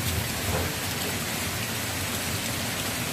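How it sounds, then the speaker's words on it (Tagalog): Heavy rain pouring down, a dense, steady hiss of water striking surfaces that fills the whole stretch evenly and loudly, with no voices. "Pero ang buhos ng ulan ay malakas."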